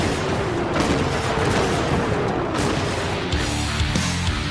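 114mm rockets fire from a 60-round rocket rack in War Thunder, producing a dense, steady roar of overlapping launches and blasts that stays loud without a break.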